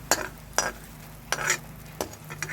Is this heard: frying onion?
yes